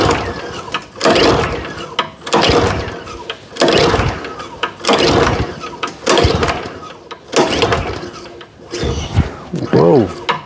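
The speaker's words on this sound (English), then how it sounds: "Now let's go ahead and pull it over, see how many pulls it'll take" Recoil starter being yanked on a Kawasaki lawn equipment engine, set on full choke after sitting five months without fuel stabilizer: about seven loud, close rasping pulls in a steady rhythm, with no clear start between them.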